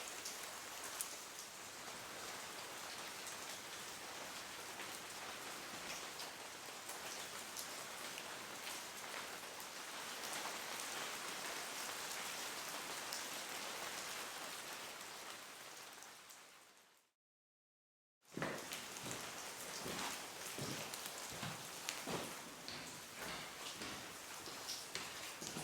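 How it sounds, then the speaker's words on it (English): Steady rain falls outside a mountain cave camp at dusk, a dense continuous patter that cuts out briefly near the end and then resumes with some heavier drips. "look at the mountains as the light fades, and listen to the rain"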